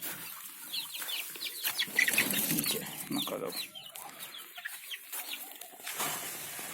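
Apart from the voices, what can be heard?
hens clucking after their eggs were taken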